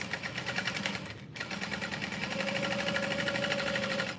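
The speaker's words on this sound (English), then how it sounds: "I'm gonna backstitch over the handles to help reinforce" A sewing machine backstitches over the handles of a tote bag, its needle chattering in a fast, even rhythm that breaks off for a moment and then carries on steadily up close.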